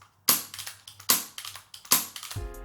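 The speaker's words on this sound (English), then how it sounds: "So effectively all you'll hear is just the hammer." Suppressed airsoft MK23 pistol firing, only the hammer audible: three sharp mechanical clacks about a second apart, each trailed by smaller rattling clicks, with a brief hum at the end.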